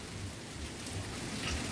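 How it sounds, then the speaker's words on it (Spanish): A heavy rain shower, the first rain of 2023 in San Juan de los Lagos, pours down as a steady, dense hiss with a faint low rumble underneath, nearby and unbroken. "Y ahora sí nos cayó el chubasco aquí en San Juan de los Lagos."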